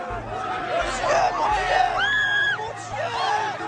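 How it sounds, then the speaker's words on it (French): Frightened students scream and shout in a school during a police arrest in Conflans, with high-pitched cries rising over a loud, agitated crowd and chatter throughout. "On entend aussi les cris d'effroi des autres élèves"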